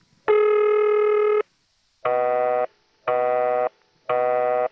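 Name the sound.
St. Thomas ringing machine telephone ring, 1976 recording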